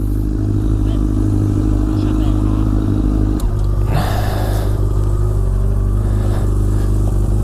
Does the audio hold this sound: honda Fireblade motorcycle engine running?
yes